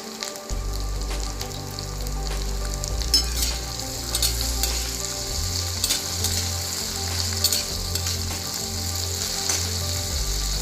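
Potatoes and papad sizzle and crackle steadily in oil in a pan, with a low mechanical hum pulsing underneath.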